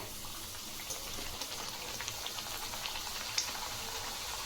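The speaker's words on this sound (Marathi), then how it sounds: "आता तेल गरम झालं आहे, यामध्ये एक एक पुरी तळून घेते" Puris frying one at a time in hot oil for a Diwali besan puri batch, a steady dense sizzle and bubbling crackle with scattered small pops, close and continuous throughout.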